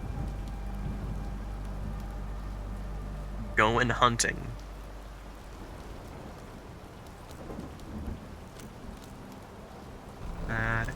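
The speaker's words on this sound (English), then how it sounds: "Cool rain." Steady rain and thunder in the In Sound Mind video game: a constant wash of falling rain with a low rumbling underlayer, and a voice speaking briefly partway through.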